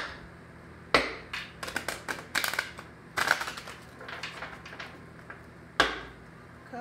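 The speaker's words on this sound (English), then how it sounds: "And let me do one more shuffle." Tarot cards being shuffled nearby, several crisp riffling bursts and clusters of quick card snaps and taps scattered across the moment, fairly loud against a quiet room with no speech.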